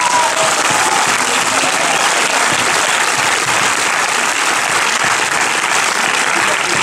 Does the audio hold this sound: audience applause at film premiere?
yes